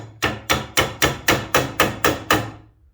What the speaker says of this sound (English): want to try to hammer them in enough so it also pushes out the glue a bit